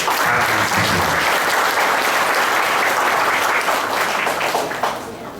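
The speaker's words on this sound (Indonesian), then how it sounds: "Kita kasih aplaus kepada para mahasiswa." Sustained applause from an audience at a university public lecture in Siantar honoring the students, dense steady clapping for about five seconds before thinning out at the end.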